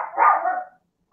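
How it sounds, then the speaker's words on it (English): A dog barks once, a single loud, close, sustained bark that fades out, with no talk over it. "I don't know what he's barking about."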